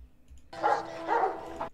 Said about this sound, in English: So Kyle Reese hears the dogs.